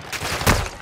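Video game gunfire comes as a brief, close burst of a few rapid shots with one louder crack near the middle, heard without talk.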